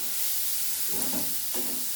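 Chopped medium-sized tomato hits hot fried spices for masala chicken, giving a steady close sizzle with two brief louder bursts of spattering and stirring as the pieces land in the pan.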